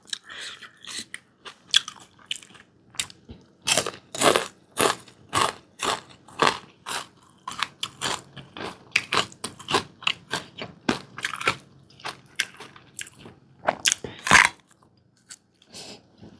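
Crunchy bites and chewing on small white pomfret fried crisp with garlic, a steady run of close, sharp crackling crunches in an uneven rhythm, with little else audible.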